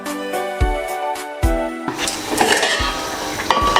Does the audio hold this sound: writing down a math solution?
no